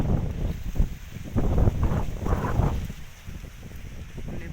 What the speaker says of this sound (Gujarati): અને પવન પણ બહુ નીકળી ગયો છે